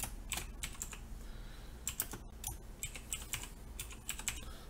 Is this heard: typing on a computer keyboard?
yes